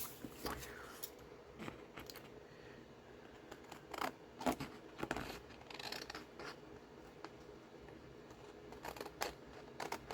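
Scissors snipping paper to make a pocket from a book page, a faint series of irregular close crisp cuts and rustles with quiet pauses between them.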